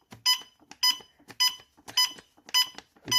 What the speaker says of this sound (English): it reduces already the gas being detected until the alarm will turn off